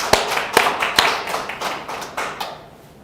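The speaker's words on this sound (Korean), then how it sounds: "하나님께 영광의 박수를." A church congregation at a Korean New Year's Eve dawn worship service breaks into applause, opening with a few loud, sharp claps that settle into a lighter patter and fade away within a few seconds.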